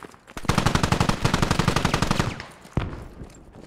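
Rapid automatic gunfire in a video game rattles loud and close in a sustained burst of evenly spaced shots for about two seconds, then a single sharp shot follows after a brief pause.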